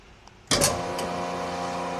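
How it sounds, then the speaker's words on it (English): A DC800 double chamber vacuum sealer with a PNC01 control board switches on with a sudden thump, then settles into a loud, steady motor and pump hum with a tonal drone, close by. "when the machine comes on, and I'm going to turn it on right here,"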